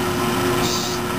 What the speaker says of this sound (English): We're just drilling a hole.